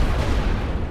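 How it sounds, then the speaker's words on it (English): A machine gun rattles in a Great War Western Front video game, a dense, continuous rumble of rapid fire that stays loud and unbroken for about a second without a pause. "The MG is firing"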